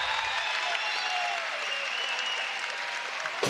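Crowd applause at a 2023 NCAA women's volleyball first-round match between Omaha and Kansas, a dense, sustained roar of clapping from the arena that holds steady before ending abruptly.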